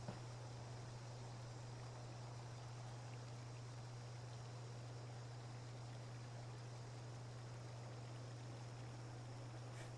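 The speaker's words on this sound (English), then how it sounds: "Listen to the cicadas and the crickets and the river." Steady, even ambience from a Fallout 76 forest: a soft rushing river with a continuous hiss of insects, cicadas and crickets, holding unchanged and unbroken with no voices.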